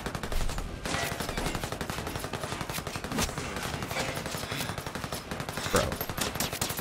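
Gunfire in the Ghost Recon Breakpoint video game: dense, continuous rapid automatic shots with a few heavier bursts, loud and steady throughout, with no clear speech over it.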